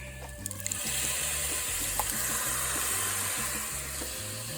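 Liquid poured into a hot pan for a stuffed shells dish, a steady broadband sizzle and splash that runs throughout at moderate level, with a low rhythmic hum underneath and a brief clink near the start.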